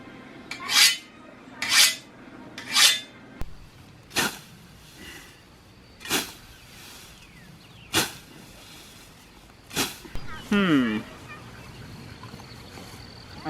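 A scythe blade is sharpened with a series of short, bright metallic strokes, about eight separate swipes spaced a second or two apart, close and clear, with a brief scraping flurry near the end.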